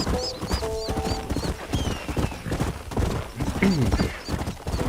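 A horse gallops in the Red Dead Redemption video game, remastered on PS5, with a steady, rhythmic clip-clop of hooves under busy game sound and a brief whinny-like cry.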